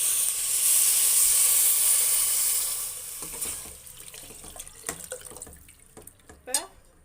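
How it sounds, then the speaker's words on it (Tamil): Water poured into a cooking pan of drumstick sambar with turmeric, a steady broad rush for about three seconds, then gives way to sizzling, scattered drips and small clinks close by. "இப்போ தண்ணி கொஞ்சம் ஊற்றிக்கலாம்."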